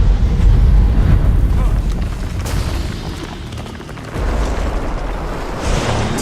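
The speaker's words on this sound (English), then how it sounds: "That Bloodstone explosion seemed to trigger some sort of magical echo" A magical Bloodstone explosion in Guild Wars 2 rolls out as a heavy, sustained booming rumble that stays loud for several seconds and then swells again, with no clear speech over it.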